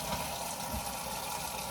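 Tap water running steadily in a kitchen sink while dishes are washed, a continuous broadband hiss and splash, close and fairly quiet, with no talking.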